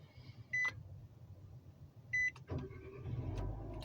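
2025 Nissan Versa switching on with two short chime tones about a second and a half apart, followed by faint whirring and low interior rumble.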